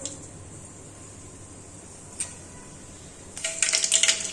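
Mustard seeds hit hot oil in a pan and burst into a sharp, crackling sputter during the final second, after a long stretch of near-quiet with one faint tick.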